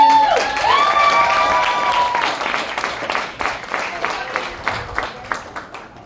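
Applause at a debate banquet starts under a few cheers and voices, then thins into more distinct, separate claps that gradually taper off toward the end.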